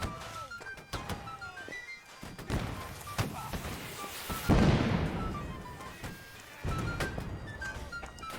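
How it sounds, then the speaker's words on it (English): Heavy artillery fire booms around a roadway embankment in the musket-era battle game Holdfast: Nations at War, with repeated thuds and one large nearby blast amid a dense, noisy battlefield din. "The artillery was really thick at this point."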